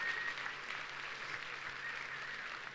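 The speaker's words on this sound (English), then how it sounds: "let's give them a big round of applause" Faint, distant-sounding audience applause, a soft continuous patter of clapping that stays fairly even from start to finish.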